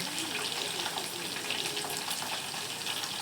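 Ginger garlic paste frying in a pan, a dense, even crackle and sizzle that holds steady throughout, close and fairly loud with no talking.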